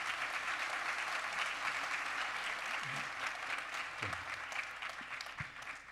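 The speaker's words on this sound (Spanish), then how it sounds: "recibamos con un fuerte aplauso" Warm applause from an audience at the opening of a UPB summer school, steady clapping from many people, fairly faint and even, with a few low thumps near the end.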